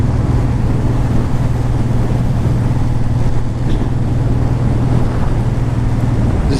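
A Honda VTX 1800 motorcycle under way gives a steady, loud engine drone mixed with rushing wind noise, continuous and close, with no talk.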